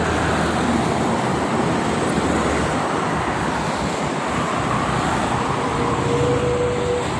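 Steady roadway roar of mostly private cars on the busy Jakarta–Cikampek toll road at evening, a continuous broadband wash of tyres and engines with no breaks, heard from the roadside without speech.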